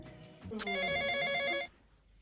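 A telephone bell rings in one sustained electronic trill of a bit over a second, close and fairly loud, then cuts off into quiet.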